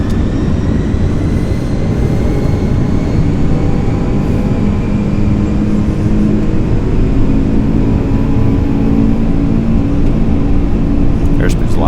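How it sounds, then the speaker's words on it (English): A NASA SOFIA Boeing 747SP, an ex-Pan Am flying telescope, runs its jet engines at takeoff thrust, heard from the cockpit as a loud, continuous roar with faint rising whine. Crew voices talk over it. "Releasing brake and set takeoff thrust."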